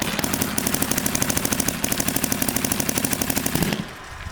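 A Dye DSR+ paintball marker fitted with a mechanical frame fires in a rapid, steady rattling stream of loud close shots for nearly four seconds, with two brief pauses, then stops.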